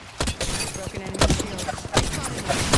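Rapid bursts of gunfire in an Apex Legends match, several loud sharp volleys in quick succession with game character voice lines mixed in.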